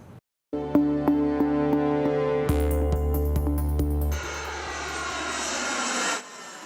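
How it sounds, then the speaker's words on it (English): A jet airliner takes off with a rising, whining engine roar that swells steadily, then shifts into a broad rushing hiss as it pulls away, heard clearly with no talking. "The sound of a flight taking off"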